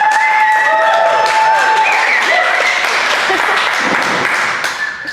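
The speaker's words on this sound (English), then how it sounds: "Can I get a big welcome round of applause from everyone here" A live audience at a university startup talk applauds loudly and steadily, dense clapping with some cheering that holds for several seconds before tapering at the end, with whistle-like tones and voices mixed in.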